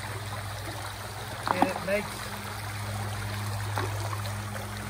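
Mountain stream water flows steadily past a small, hand-built rock dam, a continuous soft rushing and trickling wash under brief speech from a man and a child.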